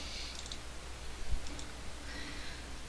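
A computer mouse clicks an option in the Stickies program, a few faint, crisp clicks spaced about a second apart over a low background hiss, with no speech.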